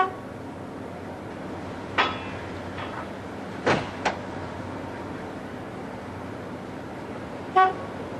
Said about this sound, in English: sound your horn just before you back up